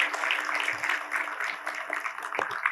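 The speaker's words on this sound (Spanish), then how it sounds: "te damos un aplauso" A church congregation claps together in sustained, even applause, a dense patter of hands, moderately loud and continuous throughout.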